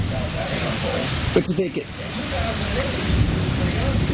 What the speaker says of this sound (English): Claire, you see that rain out there?